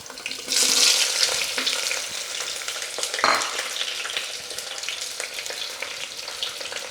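Brinjal and mixed vegetables drop into hot oil with fried cashews in a pan, making a loud burst of sizzling that settles into a continuous close frying hiss with stirring clatter.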